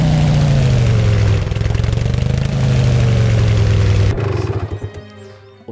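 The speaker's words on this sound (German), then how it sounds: "Aber immerhin haben wir Motorrad." A heavy motorcycle engine in Empyrion Galactic Survival drones loud and steady with a deep low rumble, shifting pitch slightly, then cuts off near the end into quieter mechanical clatter.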